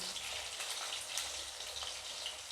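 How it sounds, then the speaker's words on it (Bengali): Mutton sizzling with salt in a pan, a steady broadband fry with dense crackle and spatter that holds at an even level throughout, close by with no voices. "লবণ দিয়ে এটাকে আমি লাল করে ভেজে নেবো"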